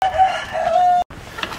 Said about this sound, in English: There's another rooster and he's cute.